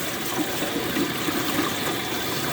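Water drains steadily through a strainer holding rinsed cauliflower, a continuous close splashing trickle with no voices over it.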